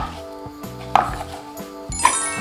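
Knife chopping apple into small garlic-sized pieces on a board, a few sharp irregular taps spaced apart, close up with no talk.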